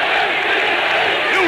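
Football fans of Internacional shouting together in a packed stadium during a 1999 Brazilian championship match, a dense, loud, sustained roar of a massive crowd.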